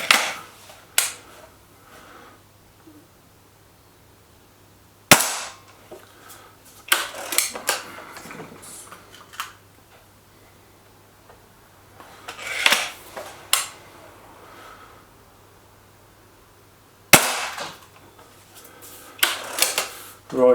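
Air rifle shots from an SMK Mod19 and a Webley VMX Quantum in an outdoor target contest: sharp, fairly loud reports at irregular intervals with a few smaller clicks and knocks between them.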